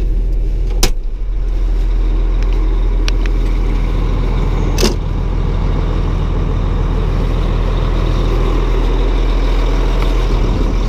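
A front end loader's diesel engine idles with a steady low rumble, close and loud throughout, broken only by a couple of brief clicks and knocks.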